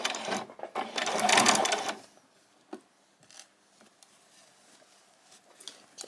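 A sewing machine runs a short back-stitch burst on a handbag handle, a close, steady mechanical whir of about two seconds, followed by quiet clicks and light handling.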